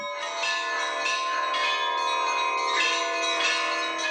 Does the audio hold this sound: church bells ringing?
yes